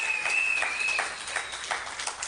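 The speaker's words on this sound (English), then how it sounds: "I'm proud of Saddam. Give him a round of applause." A street crowd applauds at an outdoor event, a short burst of scattered clapping at moderate distance with a thin whistle-like tone in the first second, easing off slightly before the end.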